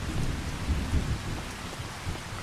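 Steady rain and rolling thunder in the farming game Farming Simulator 25, a dense hiss of falling rain over deep, uneven rumbles that swell and fade, with no voices.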